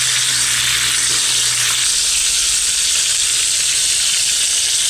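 Tilapia frying in hot oil, a loud, continuous close-up sizzle with crackling spatter that holds steady throughout, with a faint low hum fading early.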